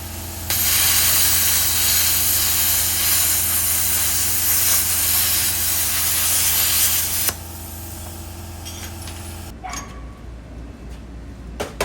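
Plasma cutter slicing an old control arm bracket off the Dana 30 axle tube on a Jeep Wrangler TJ, a loud steady hissing spray that runs for about seven seconds, then quieter hiss and shop noise.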